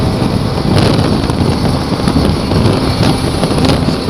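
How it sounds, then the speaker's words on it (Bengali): Steady, loud wind roars across the microphone with constant broadband rushing and buffeting, no voices, continuing without a break. "হাওয়াটাও সেই দিচ্ছে সলিড হাওয়া দিচ্ছে একদম"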